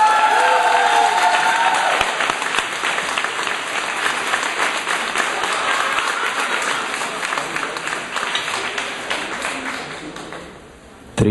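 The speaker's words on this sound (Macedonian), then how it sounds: "дајте малце аплауз да се опуштиме" An audience in a hall applauds, a dense sustained clapping from many hands that carries on for several seconds before thinning out and stopping.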